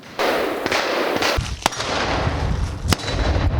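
Several sharp, loud gunshots fired at irregular intervals outdoors, each with a quick metallic crack as rounds strike steel gong targets.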